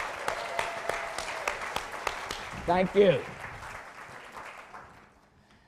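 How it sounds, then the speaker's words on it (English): An audience gives a round of applause for new staff members, steady clapping that gradually fades away, with a brief spoken voice partway through. "If you could stand up, let's give them a round of applause"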